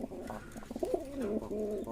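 Fancy pigeons in a pigeon loft, a close, soft throaty cooing phrase with rolling, warbling notes, clear and uninterrupted.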